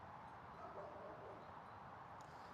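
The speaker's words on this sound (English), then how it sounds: "I hear dogs barking in the distance" Dogs bark far off in a backyard setting, faint and muffled under a steady outdoor hiss.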